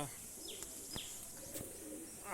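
Pigeons coo quietly at a distance under a bright, hissy background, with a few short sharp chirps and clicks cutting through now and then.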